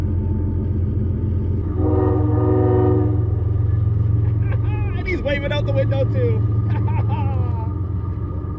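A train rumbles past with a long horn blast, followed by more horn tones as it continues, heard from nearby under a steady low rumble, while people talk over it.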